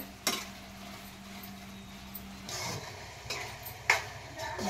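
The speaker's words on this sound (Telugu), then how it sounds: "ఇదిగో చూసారా, ఇలా ఉడికిపోతున్నాయి." Tomatoes softening in a pan for a soya chunk curry, a quiet faint simmer with a few sharp clinks and taps of a utensil against the pan.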